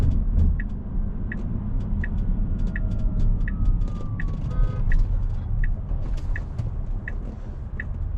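The cabin of a Tesla Cybertruck driving itself in traffic hums with low road noise, accompanied by a regular ticking chime repeating about twice a second.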